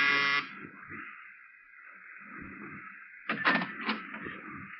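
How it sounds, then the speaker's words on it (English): A door buzzer drones for several seconds in a radio drama scene, a steady electric hum with a brief louder burst at the start and short pulsing bursts near the end, heard alone without talk. "but I pushed the buzzer anyway."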